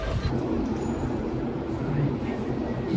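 Commuter train heading toward Shinjuku, a steady low rumble and rolling hum from inside or beside the carriage, with no one talking.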